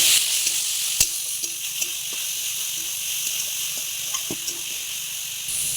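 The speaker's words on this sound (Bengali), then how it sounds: "পাঁচফোড়নটাকে অল্প একটু ভেজে নিয়ে দিয়ে দিচ্ছি গ্রেট করা পটল" Grated pointed gourd sizzles in hot oil with panch phoron and a pinch of asafoetida, a steady, close hiss broken by light scraping taps of stirring.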